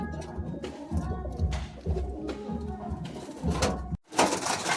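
Madrasi pigeons cooing steadily nearby, low rounded calls repeating in overlapping phrases, with a brief quiet gap before a burst of rustling noise.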